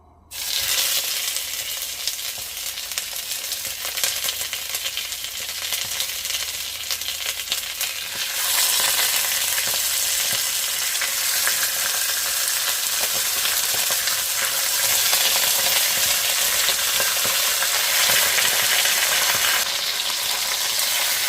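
Chicken pieces frying in a pan for chicken afritada, with a loud, steady sizzle and stirring scrapes that grow brighter partway through, heard alone with no voices.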